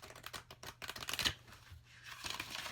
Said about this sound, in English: So let's try vertical shuffling first.